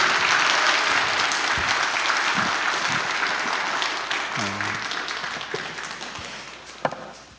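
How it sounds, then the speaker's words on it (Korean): A church congregation at a Thanksgiving Sunday worship service applauds in a dense, steady wash of clapping that gradually thins and fades toward the end, with a few scattered knocks near the close. "우리 큰 박수로 여러분 격려해 주시면 좋겠습니다"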